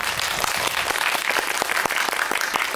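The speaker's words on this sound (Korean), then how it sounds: "박수 부탁드릴게요" A cinema audience at a Korean film screening and talk claps loudly and continuously, a dense, close wash of applause lasting the whole few seconds.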